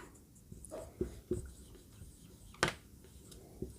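A pen writes notes on paper during a Hindi biology lesson, giving a few faint, brief scratchy strokes in a quiet room, separated by short pauses and one sharper tap.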